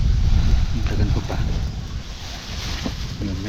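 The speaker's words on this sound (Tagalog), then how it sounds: "sobrang mahangin kahit pa gabi na" Strong night wind sweeping across a campsite in Tanay, Rizal, producing a loud, continuous buffeting rumble against the microphone with gusty swells and faint voice fragments in places.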